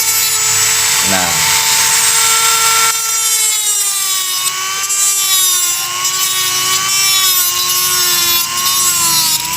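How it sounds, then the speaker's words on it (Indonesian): An electric drill bores into a lighter being modified, a loud, close, high whine that wavers in pitch as it cuts, running continuously throughout. "Maaf kalau berisik karena ini bunyinya drill."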